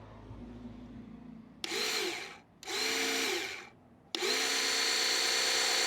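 A 12V electric hydraulic car jack motor lifting a car, three loud whirring motor runs that start abruptly, with the third running on steadily, close up and alone.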